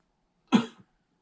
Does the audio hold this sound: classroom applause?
no